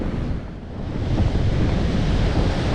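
Rough sea surf during a massive flood roars in a continuous wash of breaking waves, loud and broadband, with gusting wind buffeting the microphone.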